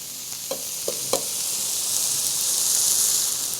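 Eggplant frying in a pan under a loosely fitting lid pressed down on it, a steady soft sizzle and hiss with a few brief clicks near the start, the sizzle swelling slightly toward the end.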